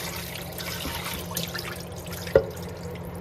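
Water being tipped out of a pot of potatoes, a soft ongoing trickle and dribble with scattered drips and one sharp knock near the end, over a low background hum.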